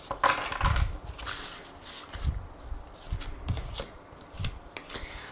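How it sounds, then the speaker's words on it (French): Tarot cards are drawn and handled close by, with soft papery slides, flicks and light taps coming in irregular bursts against a quiet room. "Alors on va prendre 3 cartes et voir les messages."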